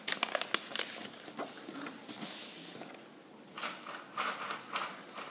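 Paper being folded into an origami wallet gives soft crinkles, light creasing rubs and small crisp snaps, close and quiet, with no talking.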